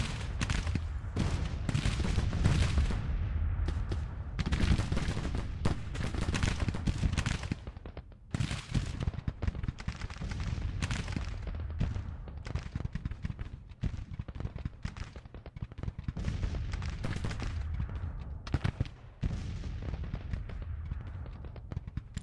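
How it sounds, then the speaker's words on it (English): Artillery and rifle fire in the Civil War video game Grand Tactician, heard as a dense, continuous stretch of crackling musketry volleys and booming cannon shots that overlap in rapid, uneven bursts. The firing sounds moderately distant. "They're also taking artillery fire."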